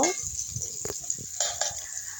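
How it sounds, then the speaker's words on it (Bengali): Onion, garlic, bay leaf and dried chili stir-fried in hot oil, a steady close sizzle broken by a few scraping stirs, short and fairly quiet with no talk. "এখন আমি তেলের মধ্যে নেড়ে চেড়ে ভেজে নিব"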